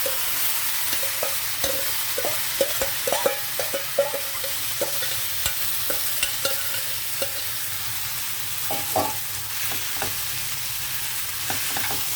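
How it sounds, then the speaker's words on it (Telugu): Chana dal is stirred into a sizzling tempering for an ivy gourd and coconut curry, a continuous frying hiss broken by frequent soft scraping clicks of a spoon, with no talking. "చక్కగా వేగింది కదా మన పోపు ఈ టైంలో పప్పు ఇందులో వేసేయాలి"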